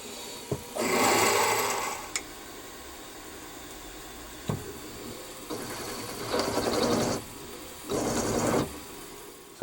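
Machine tapping an M8 thread with a spring-loaded tap and cutting compound, with a steady mechanical whir and several bursts of cutting noise separated by sharp clicks, close, no voices.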